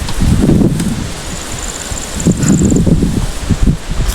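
A kal baisakhi storm roars in strong, gusting wind with rustling and a broad wash of rain, loud and close with surging bursts, a faint high whine passing briefly in the middle.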